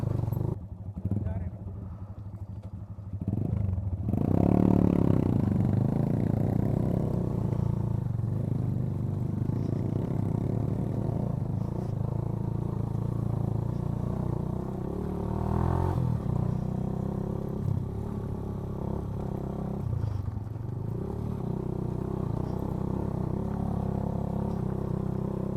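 A motorcycle rides over a rough off-road track in Rumli Valley, its engine droning steadily and loud with clattering jolts from the bumpy ground and small throttle swells, close up throughout after a quieter opening few seconds.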